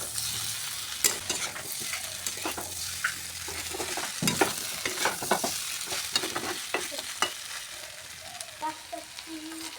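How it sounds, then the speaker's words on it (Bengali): Fried soybean chunks and potatoes being stir-fried together in a pan, with irregular scraping and stirring clatter over a steady sizzle, close and moderately loud throughout. "এভাবে নেড়ে ছেড়ে ভালো করে সয়াবিন আলু একসাথে কষিয়ে নেব।"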